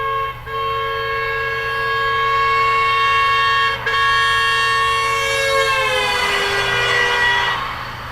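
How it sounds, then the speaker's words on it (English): A car horn sounds continuously as the car drives past, its steady tone dropping noticeably in pitch near the end as the vehicle passes and recedes, showing a clear Doppler shift, loud and with no talking. "So you notice that as the car drives by, you hear that like almost change in pitch as it goes."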